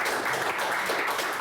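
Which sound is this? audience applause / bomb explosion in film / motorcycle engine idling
audience applause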